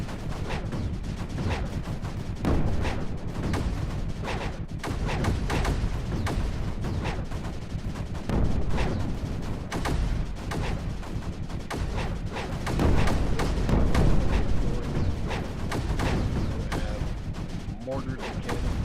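Mortars and cannons fire continuously in the strategy video game Creeper World 4, a dense, loud barrage of overlapping booms and thuds with no pause.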